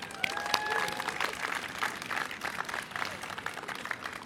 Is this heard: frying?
no